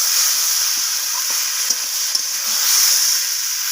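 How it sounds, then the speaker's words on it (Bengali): Fried potatoes and soybean chunks cook in a pan with a loud steady sizzle, broken by a few light clinks and scrapes of stirring. "তো আলুগুলোকে আমি সয়াবিনের সাথে কষিয়ে নিচ্ছি।"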